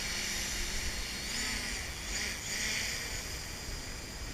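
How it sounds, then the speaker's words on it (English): A DJI Mavic Pro drone hovers in a light outdoor breeze just after being hand launched, giving a steady, close, high-pitched whirring whine with a faint airy hiss. "just let the drone go free"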